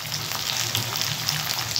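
Ginger paste frying in oil with prawns in a pan, a dense even sizzle with light crackles, close and steady throughout with no talking.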